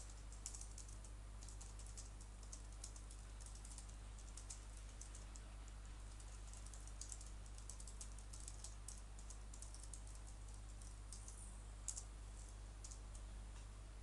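Keys tapped on a computer keyboard in a steady, quiet patter of small clicks over a constant low hum, no voices.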